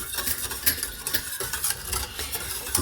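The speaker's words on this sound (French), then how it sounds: "Et là on remue bien tout de suite pour éviter" A spoon stirs a lemon cream mixture for a lemon tart, quick scraping and swishing against the pot with faint clinks, close and continuous, with no talking.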